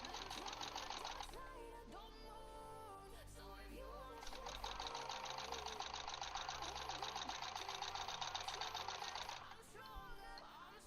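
A sewing machine stitches scrappy quilt blocks in rapid, steady mechanical chatter, running in two bursts separated by a short pause, close and clear over faint background hum.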